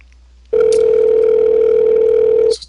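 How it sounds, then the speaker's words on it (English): A telephone call tone sounds loud and steady, one continuous tone of about two seconds that begins abruptly and then cuts off, with no voices over it. "So it's ringing."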